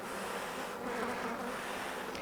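Honey bees swarm in a crowded open hive being inspected on the first day of spring, giving a steady, dense buzz that hums evenly and close up throughout.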